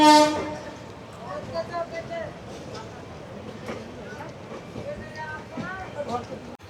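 A passing train running from Malda Town toward Howrah opens with a loud horn blast, then settles into a continuous rolling rumble of cars, with talk mixed in.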